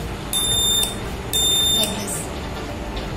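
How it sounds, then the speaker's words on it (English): A buzzer alarm on a forest tree-cutting detection project, triggered when a MEMS sensor senses the tree tilting, sounds two shrill, even beeps of about half a second each, over a low background hum. "So it will hoot the buzzer"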